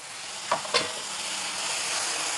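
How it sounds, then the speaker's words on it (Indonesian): Fresh coconut is stirred into urap in a pan, giving a soft hissing sizzle with two brief scraping stirs near the start and no talk. "Nah, ini kelapa segarnya masukin ya."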